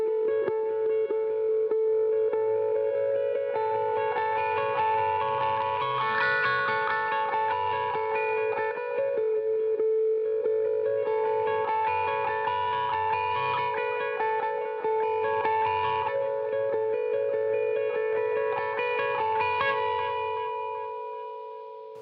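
An electric guitar plays sustained chords through a filter pedal rocked slowly back and forth, the tone sweeping brighter and darker in long swells with a ringing echo, alone and without talk.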